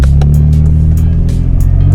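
A Lexus SC300 fitted with a custom-made exhaust drives along, its loud, deep, throaty engine drone held steady and close with a low rumbling burble throughout.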